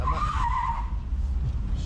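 Tires skid as tight brakes lock up on an LS-swapped Chevrolet S10, a sharp squeal that slides downward over about a second against a heavy, rumbling background.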